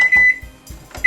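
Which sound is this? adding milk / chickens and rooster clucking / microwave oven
microwave oven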